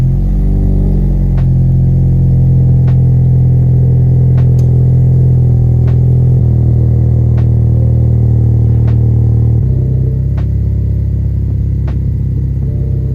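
Tenth-generation Honda Civic Si with a PRL catless downpipe and front pipe, heard from inside the cabin as a steady low engine drone and rumble while driving, shifting pitch between gears, with faint periodic ticks.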